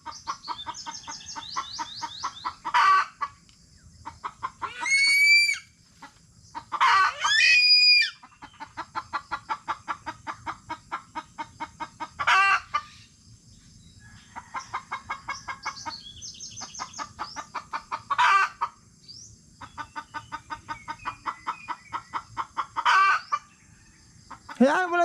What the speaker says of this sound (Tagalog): Mahuli na lang akong malaking manok.